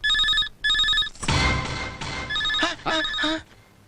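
A telephone rings in repeated bursts, bright and close, interrupted by a loud rustling clatter midway before the rings resume.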